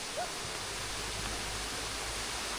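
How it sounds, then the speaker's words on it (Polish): A small waterfall beside a little footbridge gives off a steady, even rush of falling water, soft and continuous, with no voices over it. "To jest mostek tak, to jest ten wodospad, nie?"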